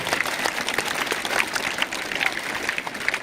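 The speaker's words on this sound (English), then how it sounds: "Give a huge round of applause for them." Audience applause for a new school band troupe at a school investiture ceremony, steady dense clapping throughout, moderately loud and without talk.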